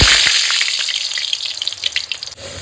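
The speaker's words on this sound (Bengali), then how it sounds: "আলুগুলো লালচে লালচে করে ভাজা হয়ে গেছে" Potatoes fry in hot oil with ginger, tomato and onion nearby, producing a loud, close bubbling sizzle with popping crackles that thins slightly toward the end; no speech.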